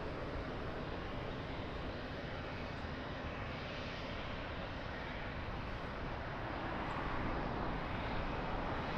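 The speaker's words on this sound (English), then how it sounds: "So we have two 777 taxiing to holding position." Two Boeing 777 jets taxi toward a holding position at Lisbon Airport, their engines a steady, dense roar that holds at constant loudness throughout with no voices over it.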